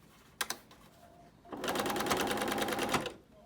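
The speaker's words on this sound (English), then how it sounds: "Sewing over that elastic again." A sewing machine top-stitches over elastic on a fabric face mask. A couple of sharp clicks come first, then a quick, steady run of needle stitching lasts about a second and a half, close and with no talking.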